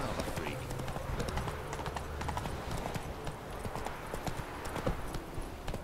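Horse hooves clip-clop steadily at a trot across ground in the video game The Witcher 3, with a voice speaking briefly over the steady hoofbeats and ambient game sound.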